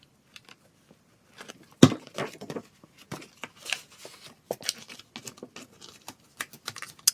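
Scissors trimming a paper planner sticker, a scattering of small, close snips, taps and paper rustles spread irregularly over a quiet background, with no talk.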